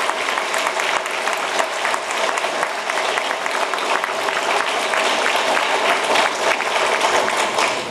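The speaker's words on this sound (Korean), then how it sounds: "박수 크게 한번 쳐주십시오" Dense, steady applause from a lecture audience at a special talk on rule-of-law democratization and criminal investigation reform, loud and continuous for the whole stretch with no pauses.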